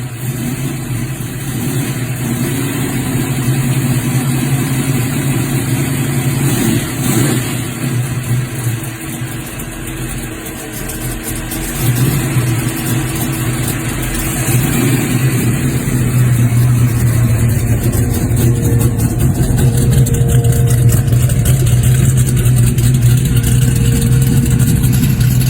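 A 1965 Ford Mustang engine runs steadily in Attleboro, Massachusetts, with a deep low rumble that idles and swells into revs. The sound is loud and close throughout, with no talking.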